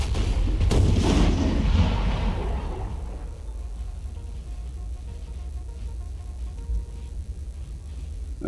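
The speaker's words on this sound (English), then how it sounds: "They don't like getting hit by cannons. Neither do my guys, especially when they're my own cannons." Cannon artillery fire in the Napoleonic Total War 3 video game booms loudly near the start and rolls into a long fading rumble, leaving a low murmur of battle noise.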